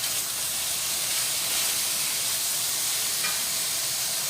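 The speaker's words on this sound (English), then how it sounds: "I'm going to just try to cook off a little bit of the liquid so it gets a little thicker" Liquid cooking down steadily in a pan on a home stove, a continuous broadband hiss and sizzle, close and even throughout with a faint brief clink near the end.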